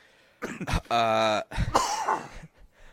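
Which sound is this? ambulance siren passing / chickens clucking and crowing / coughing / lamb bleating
coughing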